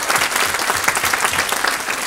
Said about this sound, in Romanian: Aplauze pentru tinerii aceștia minunați.